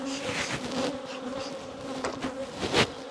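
Honey bees buzz around a hive frame lifted from the colony, a close, continuous droning hum with individual bees swelling louder as they pass near.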